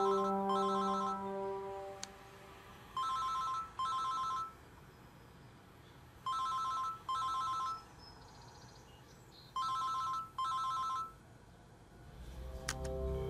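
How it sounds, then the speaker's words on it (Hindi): Telephone ringing in repeated double bursts of electronic trilling, four pairs spaced evenly over a quiet, faint background, with a short tone at the start and a brief clatter near the end. "मेरे सामने अभी फौरन एसपी महाड़िक को फोन लगाओ फौरन।"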